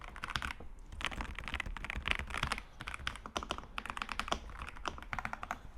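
Fast, continuous clacking of a Keychron R6 mechanical keyboard with brown switches, with dense, close keystrokes and no pauses throughout.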